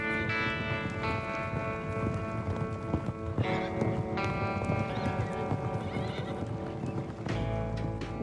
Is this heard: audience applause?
no